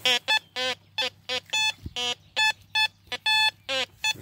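A metal detector sweeping ground in a known field emits a rapid run of loud, close electronic beeps, short tones repeating roughly every third of a second with brief gaps.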